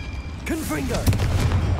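In Hogwarts Legacy, a Confringo blasting spell bursts into a deep, rumbling explosion right after a short spoken voice, followed by a lingering crackling boom.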